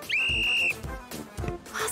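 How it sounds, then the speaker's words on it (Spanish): A referee's whistle sounds once, a sharp steady blast lasting under a second, to start a football match, followed by lively voices and crowd noise. "Cuando toque el silbato, empezará el partido."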